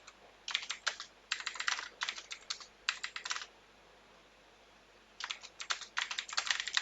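Fingers tap out several bursts of quick clicks on a computer keyboard while text is typed into a document, with brief pauses between the runs of keystrokes.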